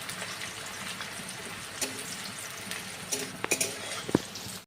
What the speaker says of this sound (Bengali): পেঁয়াজগুলোকে একটু ভালো করে নেড়ে ফেড়ে লাল লাল করে নিতে হবে।